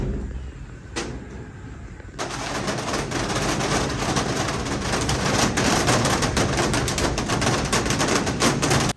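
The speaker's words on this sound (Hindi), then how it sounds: "बाहर ना बूंदों की आवाज़ सुनाई दी" Steady rain falling outside a house on a rainy day, a dense, even patter that starts suddenly after a quieter opening stretch and then holds at a constant level, close and continuous with no talking.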